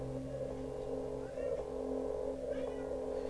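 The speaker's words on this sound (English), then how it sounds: "Oh, my poor cat. He wants to come down into the basement" A pet cat meows a few times near a basement door, faint, short cries rising above a steady low hum.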